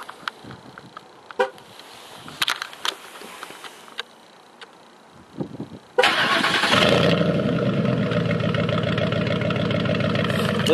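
A few faint clicks and a short horn chirp as a 2008 Ford F-150 Limited pickup is remote started; the engine cranks and catches, settling into a steady, loud idle that runs to the end.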